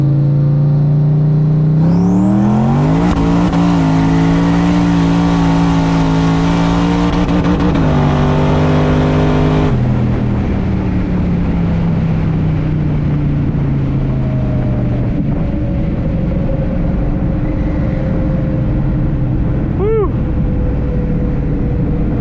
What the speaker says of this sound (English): I redlined second gear, but yeah, it was pulling pretty good